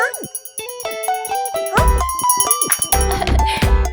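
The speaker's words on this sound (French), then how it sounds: "Une cloche retentit soudainement." A bell rings in an animated cartoon, a run of bright tonal chimes and ding-dong notes with ringing overtones, loud and layered with music and other cartoon effects.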